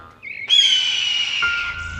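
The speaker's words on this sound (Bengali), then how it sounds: "কাক চিলকে দেখে জোরে জোরে চিৎকার করতে লাগে" A cartoon crow gives a loud, drawn-out squawking caw after a brief rising chirp, the cry holding steady and close before cutting off sharply.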